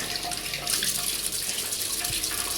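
Water sprinkled onto a cloth while making mini jangiri, a steady splashing, running-water wash close up with no talk.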